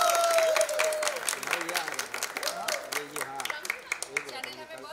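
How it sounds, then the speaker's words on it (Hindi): Cast and crew clapping on a TV show set during an anniversary celebration with cake cutting, a dense burst of applause that thins into scattered claps while people talk over it. "मीडिया के लिए तालियां, मीडिया के लिए।"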